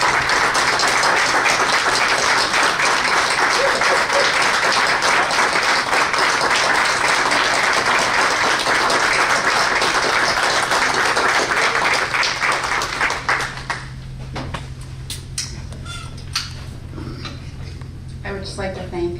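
Dense applause at a school board meeting fills most of the clip, loud and steady with cheering voices mixed in, then thins out into scattered claps and murmuring near the end.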